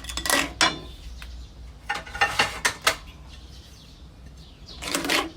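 Breakfast being served for a child: food is scooped onto a plate, with sharp clatters of dishes and cutlery in a few bursts, separated by quiet pauses.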